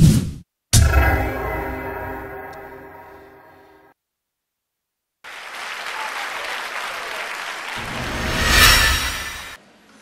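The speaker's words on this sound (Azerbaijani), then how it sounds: "Alqışlayaq." An audience applauds at a music event with a singer on stage, loud clapping that fades and stops, then a second swell of applause builds to a peak and cuts off, with a few distant voices.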